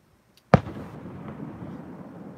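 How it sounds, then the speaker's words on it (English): A single firework bursts outdoors at a homestead with one sharp, loud bang, then a low rumbling echo trails off for a couple of seconds. "There's a firework."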